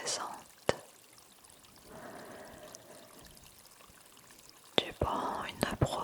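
A soft whispering voice sits over faint trickling stream water, with a few sharp close clicks and a brief pouring swell near the end.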